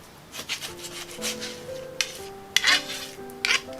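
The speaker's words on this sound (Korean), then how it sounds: "이렇게 드시기 좋은 크기로 잘라주겠어요" Spanish mackerel being cut into bite-size pieces on a board, a series of close, sharp knife scrapes and clicks in an uneven rhythm, with thin ringing tones between strokes.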